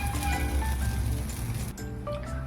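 Food frying in hot oil in a home kitchen makes a dense crackling sizzle close up, which eases slightly near the end. No one speaks.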